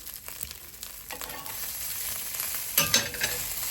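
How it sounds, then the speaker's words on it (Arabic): Food frying in a pan at home for breakfast, a steady soft sizzle with occasional louder crackles and stirring scrapes, fairly quiet and close, no voices. "بعد ما تحمر كده وتحرمس وريحته طلعت"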